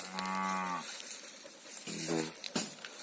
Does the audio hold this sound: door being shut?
no